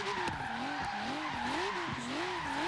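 A car drifting through a corner in Forza Horizon 3, its tires letting out a continuous, wavering skid squeal over a steady engine drone, loud and sustained for the whole stretch.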